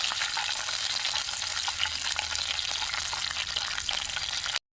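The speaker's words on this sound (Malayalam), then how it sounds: "അണ്ടിപ്പരിപ്പും മുന്തിരിയും ചേർത്തതിന് ശേഷം നല്ലോണം ഒന്ന് ഇളക്കി" Cashews and raisins frying for carrot payasam, a bright continuous sizzle with light stirring scrapes, close and steady, cutting off abruptly at the end.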